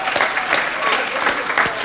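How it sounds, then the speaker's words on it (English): A comedy show audience applauds to welcome a comedian onto the stage, a dense, steady burst of clapping close and loud for its whole length. "Give him a round of applause."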